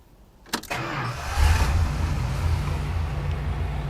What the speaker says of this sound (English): the Chrysler starter that you get on this vehicle, which, let's see how it starts up